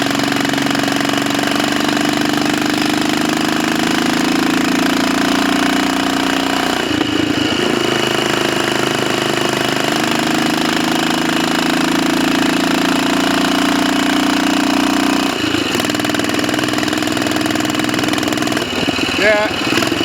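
Royal Enfield 500 Bullet Trials motorcycle on a test ride, its single-cylinder engine droning loud and steady in top gear, with brief dips and shifts in pitch.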